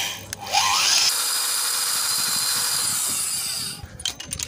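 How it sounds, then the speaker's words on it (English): A hand-held power drill bores out the remains of a broken 6mm steel bolt and its stripped threads, running as one steady, loud whine for a few seconds before stopping, with clatter at the start and end. "let's also drill with 6mm, remove even the remaining stunted threads"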